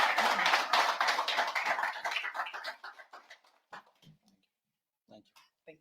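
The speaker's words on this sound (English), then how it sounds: "Let's all give him a huge round of applause." Applause from a youth audience greeting CCC President Nelson Chamisa at a citizens' meeting, dense clapping fading out over about three seconds, then a few scattered claps in near silence.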